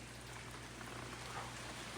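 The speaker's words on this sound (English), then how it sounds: "I would say it's pouring. It's raining out." Steady, faint hiss of rain falling continuously, a soft even wash of drops with no voices.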